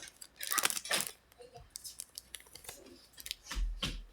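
Quiet, crisp snipping and crinkling as scissors cut through a foil Pokémon card pack, in a few separate short bursts with pauses between.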